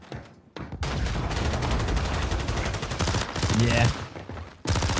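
Video game gunfire in a Warzone Rebirth match, with dense bursts of rapid automatic shots and loud, close volleys that stop and start several times, while a player speaks briefly.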